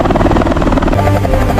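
A helicopter rotor in an autorotation descent with the engine stopped makes a loud, steady, close thumping drone that continues without a break.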